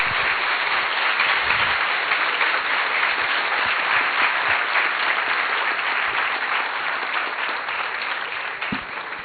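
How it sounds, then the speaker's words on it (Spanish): Sustained audience applause at an education seminar in Argentina, dense and loud clapping from a large crowd that continues for about nine seconds and fades slightly near the end, with no talk. "les pido nuevamente que le puedan brindar un aplauso"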